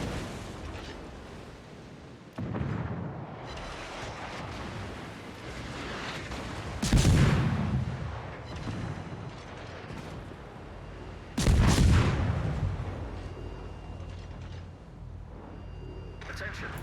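Heavy naval guns of the USS Benson destroyer in World of Warships boom in two big separated salvos, each a loud blast that rumbles away, over a continuous ocean and engine din with a voice talking throughout.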